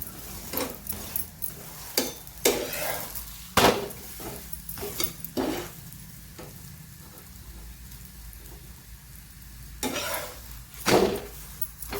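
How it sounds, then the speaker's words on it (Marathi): Paratha roasting on a hot pan, sizzling steadily while being flipped and pressed with a spatula, with repeated sharp scraping and pressing bursts over the continuous crackle; no talking. "आपण आता उलट पालट करत अशा पद्धतीनं हा पराठा भाजत आहोत"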